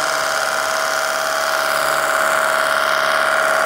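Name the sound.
cordless car washer spraying foam on car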